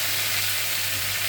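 Onions and chillies frying in hot oil, a steady dense crackling sizzle close by, unbroken and fairly loud throughout the short stretch, with no voices.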